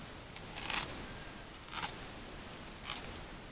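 Scissors cut around paper in three short, close snips spaced about a second apart, quiet against a faint background hiss.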